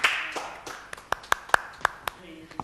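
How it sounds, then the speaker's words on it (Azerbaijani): Scattered applause at a televised awards segment on a morning show, a handful of distinct sharp claps spaced unevenly, with a host's voice speaking at the start. "Alqışlar zəhmət olmasa."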